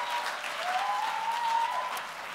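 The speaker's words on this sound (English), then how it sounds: "please keep that applause going for the last poet of the night, Janet Webster." Applause for the last poet at a poetry slam, a steady wash of audience clapping heard at a moderate distance, with a faint tonal whine running through part of it.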